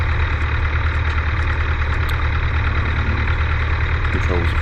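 Light aircraft engine running steadily at 1100 RPM during pre-takeoff checks, a loud, constant droning hum with no change in pitch throughout.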